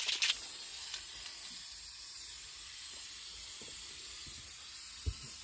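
A steady hiss of hydro-dipping activator sprayed from a spray can runs through the whole stretch, starting with a brief louder burst, with a few faint taps and clicks underneath.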